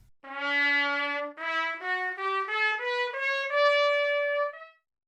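An orchestral instrument plays a rising series of sustained notes through reverb, with early reflections beginning around 25 to 118 ms, a filter cutoff and panning, giving a clear sense of room. The tone is alone, steady and moderately loud, then fades out.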